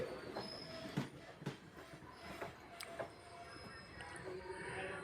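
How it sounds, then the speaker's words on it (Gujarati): A Bathinda–Sri Ganganagar train rolls past at moderate distance through rural Punjab countryside, wheels clattering and squealing over a low rumbling background. "આ ટ્રેન ત્યાંથી આવી રહી છે"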